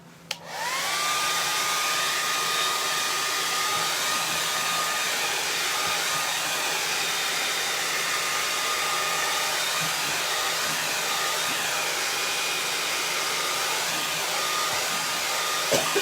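A hair dryer blows continuously to dry freshly painted stripes, a loud, steady close whoosh with a constant whine that starts abruptly and runs unbroken, with no voices.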